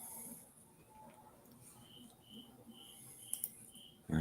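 Faint crickets chirp in a regular pulsing rhythm against a quiet night background, with a soft clatter at the end.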